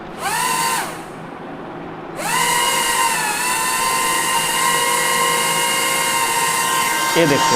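The propellers of a drone car spin up with a high, steady whine that drops out briefly and then returns and holds, as someone talks over it.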